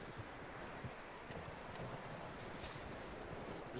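Horse hooves clip-clopping in Red Dead Redemption 2, a steady patter under a constant wash of wind-like noise, moderately faint and without talk.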